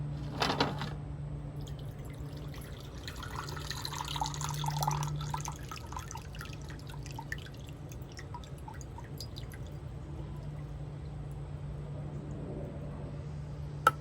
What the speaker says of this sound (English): And I will drain the water.